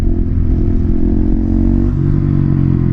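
A motorcycle engine runs steadily and loud close by, its pitch dipping briefly as it shifts into second gear and pulls away, with a faint clatter over the continuous drone.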